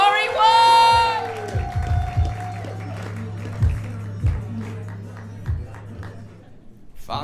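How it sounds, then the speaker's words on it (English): A live standup comedy competition audience whoops and cheers at the start, then settles into sustained applause and scattered clapping to welcome a comedian onto the stage. Bass-heavy music thumps underneath throughout. "Let's get the applause up and running"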